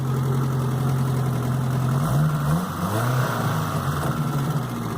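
Four-cylinder engine of a 1981 Toyota Corolla Tercel with a two-barrel carburetor and loud valve clack, idling steadily up close with a brief bump in revs midway, no talk over it.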